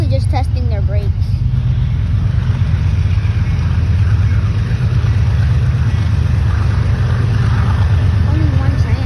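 A BNSF mixed freight train passing close by, a steady loud low rumble and rolling drone lasting throughout, with brief squealing tones near the start and a person talking over it.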